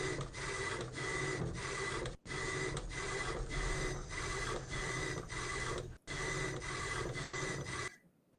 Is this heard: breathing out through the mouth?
no